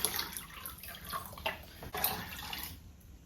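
Water poured from a container into a pitcher, several cups in turn: a close, continuous splashing and trickling stream that rises and falls, fading toward the end, with no voices.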